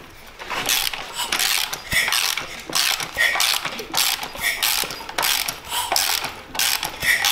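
A freshly rebuilt engine with a new timing belt is cranked over to check compression, giving steady whirring mechanical churning with repeated rhythmic ratcheting pulses, close and fairly loud throughout, with no talking.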